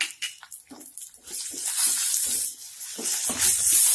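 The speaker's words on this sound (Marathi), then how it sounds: "यामध्ये साधारण चार वाट्या पाणी घालू" About four cups of water are poured into a pot of spiced kadhi in uneven splashing bursts that build to a steadier gushing stream near the end.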